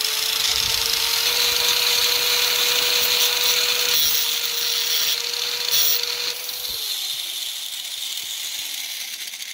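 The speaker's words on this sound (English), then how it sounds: "Let's hit that with a grinder real quick and get that smoothed off." Power grinder smoothing down small metal pins for a homemade spin casting bait, a steady high whine running loud and continuous for most of the clip before easing off near the end, with no talking.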